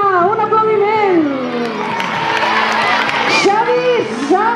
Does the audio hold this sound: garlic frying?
no